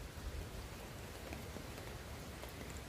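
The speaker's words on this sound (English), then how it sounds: "So the wind's picked up quite a bit. We've got some rain and that." Rain falling at a windy campsite beside a fire, a steady broadband hiss of drops and gusts that stays even and fairly faint throughout.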